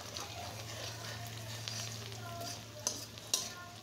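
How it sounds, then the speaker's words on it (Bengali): Onions fry in a pan under a steady low sizzle and hum, with a few sharp clinks of a spoon near the end. "এখন আমি পেঁয়াজগুলো সুন্দর করে আমার হেল্পিং হ্যান্ড ভেজে দিচ্ছে"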